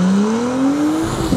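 A 2017 Acura NSX engine in Sport Plus mode accelerates hard from inside the car, one loud rising tone climbing steadily in pitch.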